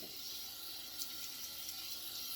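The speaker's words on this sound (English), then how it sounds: "I'm just running the water." Water runs steadily from a tap into a sink during shaving, a faint, even hiss that continues unbroken and alone.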